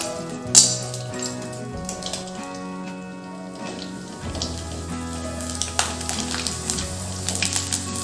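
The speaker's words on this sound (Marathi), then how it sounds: "आपण हे तिखट टाकलेले पापड तळून बघू." Sago papad seasoned with chilli powder is deep-fried in hot oil, giving a continuous crackling sizzle and scattered pops, close by, under soft background music with no talking.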